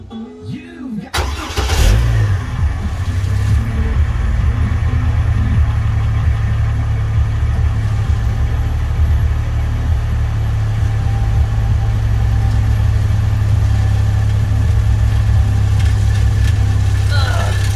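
A pickup truck with a suspected exhaust or gas tank leak starts up and then idles steadily close by, a continuous low engine drone with occasional talking over it.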